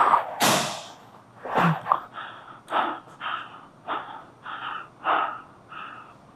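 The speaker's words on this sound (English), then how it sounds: "You're doing a lot of mouth breathing." Heavy mouth breathing comes from a tired person recovering, a series of about eight loud, close, rhythmic gasping breaths, each a harsh rush of air, with a sharp snort-like intake near the start.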